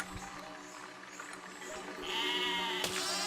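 A sheep bleats in the foreground over a steady low hum and faint background noise, followed by a sharp click, in a video game heard through a Jeecoo USB 7.1 surround gaming headset.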